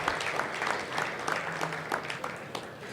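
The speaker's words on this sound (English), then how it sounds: "Let's give them a round of applause." An audience at an agricultural summit breaks into applause, a steady patter of many hands with individual claps popping out, moderately loud and continuing for a few seconds.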